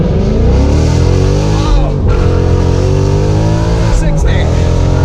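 A Ford Mustang GT 5.0 S550 with a loud exhaust accelerating hard from a standstill to 60, a dense engine roar climbing through the gears, heard from inside the car with brief shift dips and voices over it.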